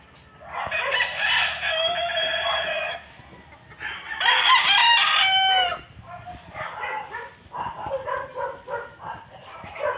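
Roosters at a row of chicken coops crow loudly and close by in several long calls, with clucking and a barking dog in the background.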